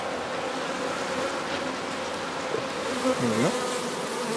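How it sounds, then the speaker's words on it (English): Honeybees buzz in a dense, continuous drone around an open hive while a new queen is introduced, with a louder bee sweeping close near the end and a brief spoken phrase. "I can tell you these bees are not nice"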